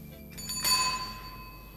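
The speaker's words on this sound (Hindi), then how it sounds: "साइकिल की घंटी दे दीजिए।" A bicycle bell gives a single bright metallic ring that lingers and fades over about a second, faint and alone in a quiet room.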